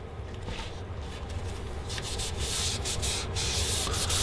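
A cloth rubs stain onto the sides and back of a limba wood guitar body, a steady dry scrubbing hiss with short rhythmic strokes, close and continuous with no voices.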